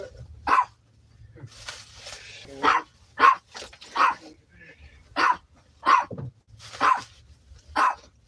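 Several dogs bark in a steady run of sharp, loud barks about every half second to one second, heard close by with a low rumble of car engine beneath, as if recorded from inside a vehicle.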